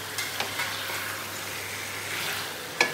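Roasted chicken frying with onions in a pan gives an even, fairly quiet sizzle, with a few light spatula stirs and one sharper scrape near the end, with no voices.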